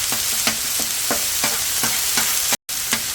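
Food for homemade dog food sizzles and fries steadily on a Blackstone griddle with the middle burners off, a loud continuous crackle broken by regular scraping strokes of a spatula.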